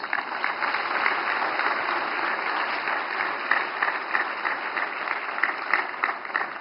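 Audience applause welcoming the President of India, Droupadi Murmu, at a Human Rights Day celebration in a hall: steady, dense clapping from a large crowd, sustained at even volume throughout.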